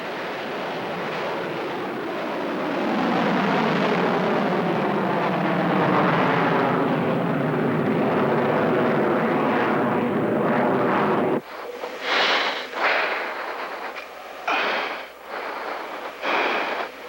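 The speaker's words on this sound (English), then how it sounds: "On your right, you will see a McDonnell Douglas F-15C Eagle, the world's top air superiority fighter." A McDonnell Douglas F-15C Eagle fighter jet at the 1992 Rose Festival Airshow roars past in a loud, sustained jet rumble that swells and holds, then breaks into uneven gusty bursts as it recedes.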